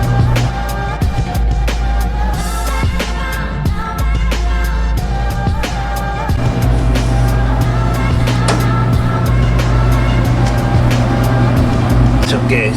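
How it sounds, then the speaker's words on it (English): A refrigeration compressor in a 30-year-old vending machine runs with a steady, close mechanical hum and scattered clicks and handling knocks, the drone growing louder about halfway through. "it feels like the compressor's running"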